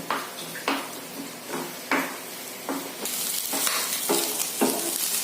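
Fish roe is stir-fried in a pan: a continuous sizzle broken by regular scraping strokes of a spatula, each about a second apart, close and clear with no talking.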